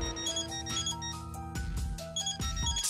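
A melodic phone ringtone plays in the video game Death end re;Quest, a bright electronic tune of sustained chiming notes that repeats steadily and loudly for several seconds, with no talking.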